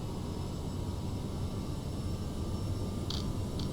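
Aerosoft CRJ regional jet engines spooling toward takeoff power in Microsoft Flight Simulator, a steady broad roar with a constant whine, fairly loud and unbroken, with two brief high beeps near the end.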